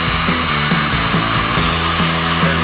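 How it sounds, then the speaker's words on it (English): A power drill runs steadily and loudly, its motor whining with slight pitch dips as it bores holes through a console, continuous and close. "drill some holes through the console to hold them in place"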